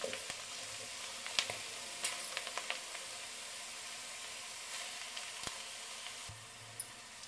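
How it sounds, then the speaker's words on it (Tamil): Ingredients for a tomato pickle being sautéed in a pan until brown, a soft sizzle with frequent light stirring clicks and scrapes, close but quiet. "கொஞ்சம் ப்ரௌன் கலர் வர வரையும் வதக்கி எடுத்துக்கலாம்."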